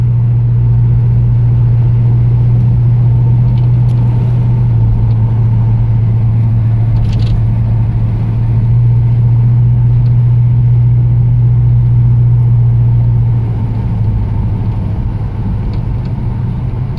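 A 1969 Pontiac Firebird with a rebuilt 400 engine cruises along, its deep, steady engine hum droning loud and unbroken from inside the car, with faint rattles over it.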